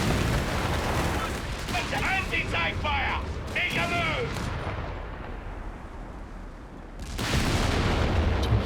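Battle sounds from Company of Heroes 3, a World War II strategy game: loud, dense bursts of gunfire and explosions running throughout, with a commentator's voice talking over the middle section.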